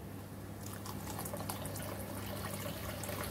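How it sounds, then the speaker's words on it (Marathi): Water poured into a millet flour mix (jowar, bajra and ragi) for a hot soup, a soft continuous trickle and splash with faint stirring, close and fairly quiet, with no talk. "त्याच्यामध्ये आपण हवं तेवढं पाणी घालून घ्यायचंय आपल्याला"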